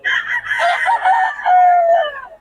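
A rooster crows nearby, a loud drawn-out call rising and falling over a couple of seconds before trailing off.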